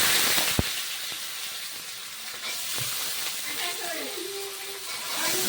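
Potatoes fry in hot oil with panch phoron and dried chilli, a steady broadband sizzle and hiss running throughout with a brief sharp tap early on; faint background sounds mix in.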